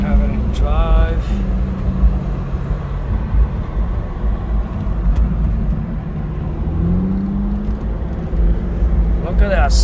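An Aston Martin DB9 pulling away in drive, its engine a steady low hum with road noise throughout, close and moderately loud.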